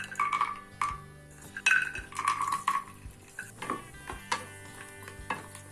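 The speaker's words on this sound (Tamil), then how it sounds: "நெய் வந்து சூடாயிடுச்சு. ஸோ முந்திரியை நம்ம ஆட் பண்ணிக்கலாம்." Cashews fry in hot ghee in a pan, giving a soft sizzle under close, intermittent clinks and scrapes of a spoon stirring against the metal. No voices.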